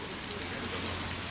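Steady rain falls outside as a continuous broadband hiss with no distinct drops or pauses, moderately loud and even throughout.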